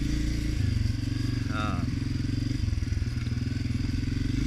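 A Honda CRF250F dirt bike's engine putters steadily and loudly at low revs while being ridden in low gear, with a brief rising rev partway through and no talk over it.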